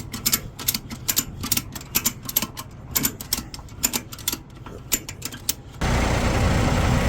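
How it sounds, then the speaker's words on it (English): A ratchet strap is cranked tight to pull a compactor box forward, with rapid, sharp mechanical clicks in quick bursts close by, followed by a steady low rumble. "I'm going to just start ratcheting up."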